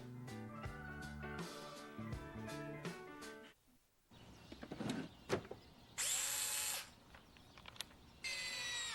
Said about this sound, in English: Now it's easy to go from drilling to driving.